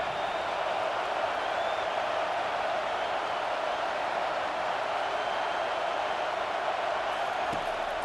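A stadium crowd in the EA Sports College Football 25 video game makes a dense, steady roar that stays at an even level throughout, with no voices standing out above it.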